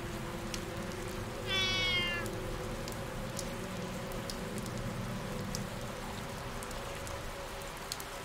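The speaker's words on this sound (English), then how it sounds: "What are you doing out here, little kitty cat?" A single drawn-out cat meow sounds in RE:TURN 2, a clear mid-level call lasting about half a second over steady rain pattering on surfaces and a low ambient hum.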